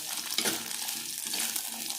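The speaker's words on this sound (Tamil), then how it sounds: "ஒரு கண்ணாடி பதம் வர அளவுக்கு நல்லா வதங்கட்டும் வெங்காயம்" Steady sizzling and crackling of onions sautéing in a pan until translucent, with soft stirring scrapes, close and continuous.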